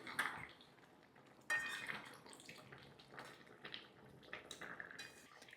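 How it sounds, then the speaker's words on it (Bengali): Eggplant pieces are stirred into a simmering bata fish curry with potatoes and lentil dumplings; faint clinks and scrapes of a spoon against the pot come and go at low volume, without talk. "এবার একটুখানি নাড়বো"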